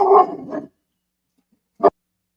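A dog gives a short burst of close barks, then pauses in silence before one final sharp bark.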